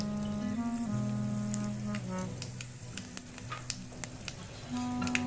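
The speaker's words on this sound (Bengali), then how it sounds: "শুকনো লঙ্কাটা ভাজতে ভাজতে আমি এখানে কালো জিরাটা অ্যাড করে দেব।" Dried red chillies and black cumin frying in hot oil give a continuous sizzle with scattered sharp pops and crackles, partly under a loud tonal music bed, no talking.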